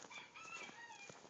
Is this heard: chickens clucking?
yes